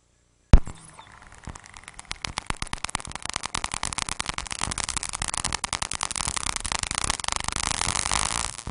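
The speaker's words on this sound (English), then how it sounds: "And then same area here, again, dolphin clicks swimming by." Dolphins swimming past on a coral reef, caught underwater as a long train of sharp broadband clicks that starts sparse after a single loud pop and quickens into dense rapid ticking over steady hiss.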